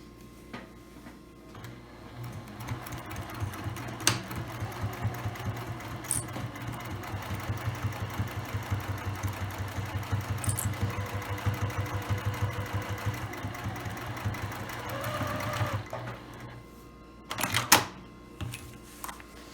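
A sewing machine stitches across the bottom seam of a lined tote bag, its motor running in a steady, even hum for about thirteen seconds before stopping, followed by a few small clicks.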